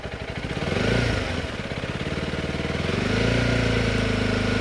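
Honda CRF300L motorcycle engine revved from idle up to about 4,500 RPM, a close, steady mid-pitched drone that swells, eases slightly, then holds high, with no speech.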